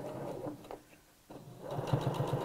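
A sewing machine stitches a seam on an evening bag in short, rapid mechanical bursts, with a brief pause before the close, steady whirring picks up again.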